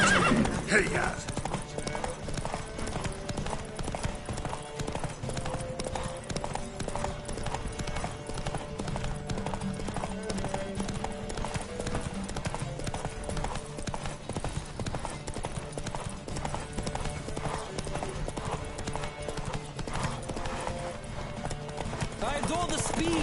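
Horses galloping in a race in the video game The Witcher 3, rapid hoofbeats drumming steadily under in-game voices, with occasional whinnies.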